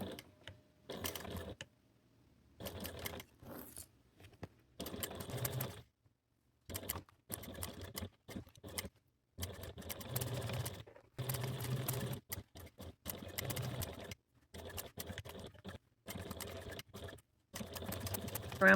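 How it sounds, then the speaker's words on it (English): A sewing machine backstitches along the folded edge of a faux leather notebook cover, giving quiet, rapid mechanical clatters in short start-stop bursts separated by pauses. "I like to backstitch just to make sure it is secure."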